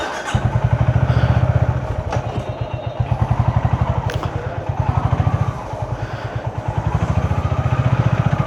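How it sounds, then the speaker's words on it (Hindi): A Honda CB350 motorcycle engine runs with a steady, loud, close thumping exhaust pulse throughout, a few light mechanical clatters sitting on top of the rhythmic idle. "अब now let's start bike and go."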